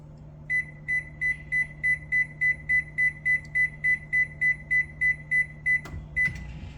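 A microwave air fryer combo oven being set to 400 gives a steady run of about sixteen short, evenly spaced electronic beeps, close and clear over a low hum, ending with a soft clunk.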